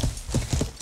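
Horse hooves clip-clop in a short, quick burst of several footfalls while riding in the medieval video game Life is Feudal.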